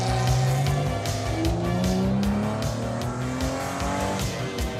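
A Chevrolet Corvette C8 V8 drives hard on winding Jura mountain roads in France, its engine note rising and falling through steady gear changes, loud and close from start to finish with no voices.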